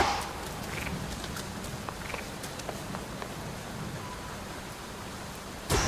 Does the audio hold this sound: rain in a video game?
yes